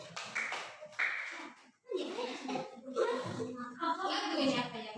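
Children clapping their hands in rhythm during a counting song, with kids' voices chattering and singing over the claps, a short pause midway, then more clapping under the voices.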